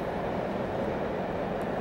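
A commuter train bound for Brunswick, Maryland rumbles past beside the C&O Canal towpath, a steady, fairly faint low roar with no voices.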